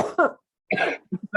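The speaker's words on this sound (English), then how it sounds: "Now we're both gonna start coughing." A few short, rough coughs up close, separated by a pause, ending in quick throat-clearing bursts.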